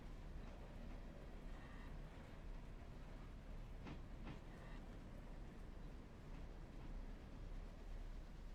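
Locomotive 92 rolls along rails in a railroad operations setting, a steady low rumble and grinding roll with a few faint metallic clicks and squeals midway, continuous and moderately distant.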